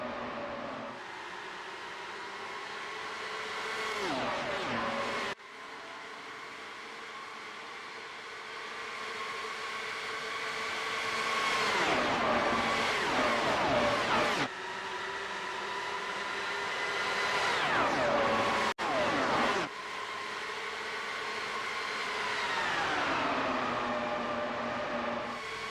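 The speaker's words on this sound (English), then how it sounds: "let's listen in for a lap to hear the roar of these V10 engines" Screaming V10 Formula-style race car engines in the iRacing sim at the U.S. 500, high-pitched and loud, rising and falling through gear changes and passing cars across a continuous lap with no talk.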